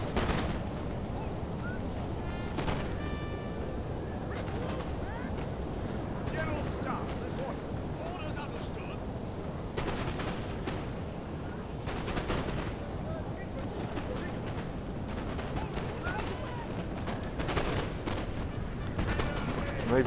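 Soldiers firing in a multiplayer strategy video game, a dense, continuous crackle of scattered gunshots and volleys under a steady battle din, with talk over it.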